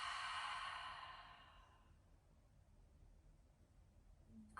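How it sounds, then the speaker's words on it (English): A single long exhale out through the mouth, a breathy sigh that fades away over about two seconds into near silence, heard close and alone. "Exhale out the mouth."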